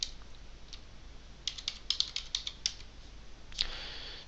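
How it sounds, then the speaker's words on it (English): Soft, close clicks of a computer keyboard as a command is typed, a few scattered keystrokes at first and then a quicker run of taps ending in a firmer press, faint against low background hiss. "just open the command prompt and type the command Ant hyphen version."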